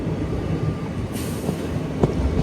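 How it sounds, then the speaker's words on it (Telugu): MEMU passenger train standing at Gudlavalleru station on the Vijayawada–Machilipatnam line, a steady low rumble of idling rail cars with faint clanks and one brief metallic knock near the end. "ఇక్కడ మెమో ట్రైన్ అయితే ఉంది."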